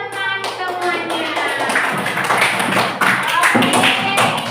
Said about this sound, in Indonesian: beri tepuk tangan untuk teman-teman semuanya